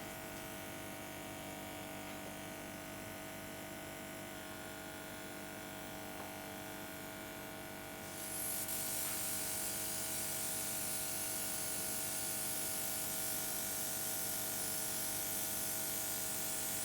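An airbrush sprays colour onto a sugar-paste-covered cake, a steady compressor hum and buzz that swells into a brighter, hissing spray midway and holds, faint and continuous with no talk.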